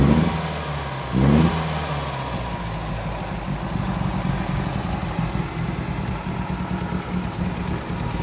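A 1933 MG J2 engine gets one short, sharp rev near the start, then settles back into a steady, even idle that runs on close by, with no talking.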